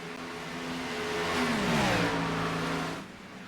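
A Chevy Camaro Gen 6 stock car engine roars in a racing video game at Kansas, revving up with a rising whine and easing off again, loud and steady, with no talk.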